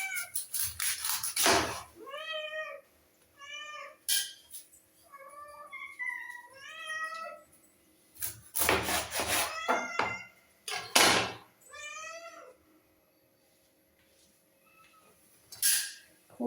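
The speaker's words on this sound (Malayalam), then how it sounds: "പൂച്ചസാറ് വന്നിട്ടുണ്ട്." A cat meows repeatedly and loudly in a home kitchen while fresh tuna is being cut, with long drawn-out calls in clusters separated by quiet gaps and an occasional door thunk.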